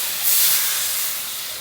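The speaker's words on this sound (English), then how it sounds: "The water is steaming right now." A steady broadband hiss of steam from water in a cooking pot, fairly loud and continuous, swelling slightly near the start then holding even, with no voices.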